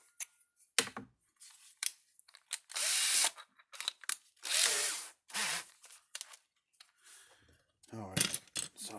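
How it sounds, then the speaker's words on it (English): A power drill bores into the plastic case of a Cyclops Brute electric fence charger in short, loud bursts separated by pauses, with brief talk between. "So I got to drill a hole in the case first"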